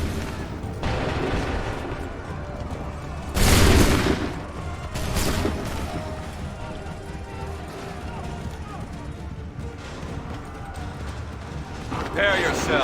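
Soldiers firing a musket volley in Assassin's Creed 3: a loud, dense crackling burst of gunfire with a second, softer volley shortly after. Battlefield rumble and shouted commands continue underneath, and a further burst of shots follows near the end.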